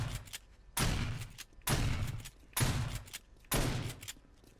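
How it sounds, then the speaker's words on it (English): Four heavy shotgun blasts firing slugs at zombies in the 7 Days to Die video game, evenly spaced about one second apart, each a loud booming report with a short ringing tail. "Just keep shooting at this guy because he's very powerful, by the way"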